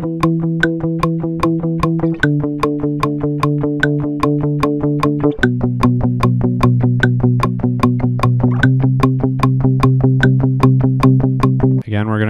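Rock guitar chords strummed in a steady, fast double-tempo rhythm, tight and evenly repeated, changing chord every couple of seconds, loud and close with no talking.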